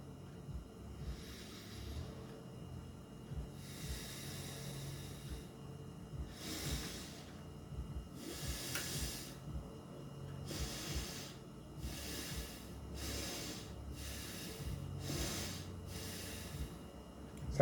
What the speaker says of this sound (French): Inspiration par les narines et expiration par les narines.